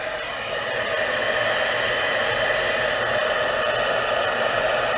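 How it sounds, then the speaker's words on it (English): A heat embossing tool blows hot air over card stock to dry ink, giving a steady, loud whoosh with a faint motor whine that runs unbroken from start to finish. "to speed up the process, we're going to use the embossing tool"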